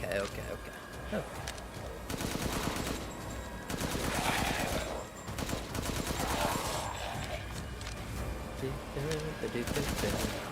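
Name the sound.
gunfire from video game Resident Evil Village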